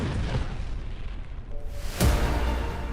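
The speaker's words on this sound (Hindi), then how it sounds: "जैसे ही कोई हरकत होती है, बम गिरता है, धमाका होता है।" A bomb explosion: a deep boom rolls in about two seconds in, low and rumbling, followed by a sustained heavy rumble over constant background noise.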